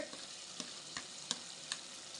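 Tomatoes frying in a pan for a Rayalaseema chicken curry, a steady soft sizzle at low level with a few light scraping clicks spaced through it, no voices.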